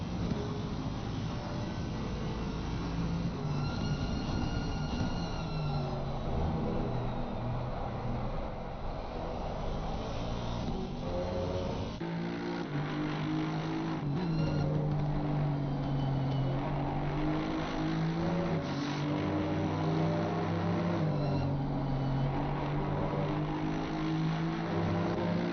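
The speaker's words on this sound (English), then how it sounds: "Some gratuitous Aston Martin engine noise," Aston Martin GT3 race car in a racing video game endurance race at Laguna Seca, engine roaring continuously as it revs up and down through gear changes, with shifting pitch sweeps and no talking.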